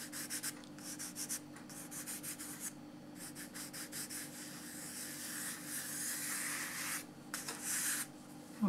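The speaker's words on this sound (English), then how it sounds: "we're going to draw with a pen" A pen sketches on paper for a craft art piece, with repeated short scratchy strokes in a steady rhythm, then a longer continuous rubbing stretch, close and quiet.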